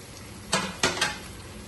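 A spoon scrapes and knocks against a pot while vegetables are mixed into pulao, giving three short metallic clinks over a quiet background.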